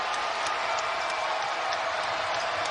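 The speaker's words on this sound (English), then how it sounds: "This crowd trying to urge on NC State." Broad, steady crowd roar fills a basketball arena as fans urge on NC State, a continuous wash of cheering and applause with scattered sharp claps, fairly loud and with no clear voices above it.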